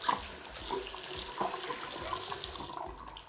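Water splashing and trickling down onto a bathroom faucet and sink as a cloth is squeezed out over it, a steady close wash of running water with small splashy bursts, no talking.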